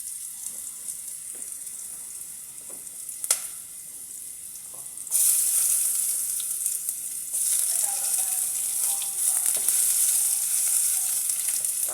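Ginger frying in a pan gives a steady hiss of sizzling that jumps noticeably louder partway through and stays bright and close, with a brief clink near the start.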